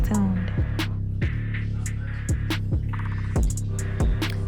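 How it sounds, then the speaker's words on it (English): A hooded hair dryer runs with a steady, close, continuous hum and throb, broken by occasional soft clicks and taps, with no talking. "I'm just sitting under the dryer just so that way I can dry my hair."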